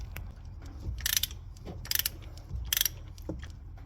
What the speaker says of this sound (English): I am now going to get the ratchet